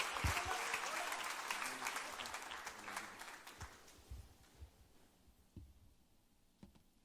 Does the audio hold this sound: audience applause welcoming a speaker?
yes